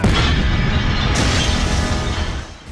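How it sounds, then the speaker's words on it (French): An old television blown up by an explosive charge: a loud, sustained booming blast with heavy rumble that fills nearly three seconds before tailing off slightly at the end. "Moi, je vais faire exploser ma vieille télé."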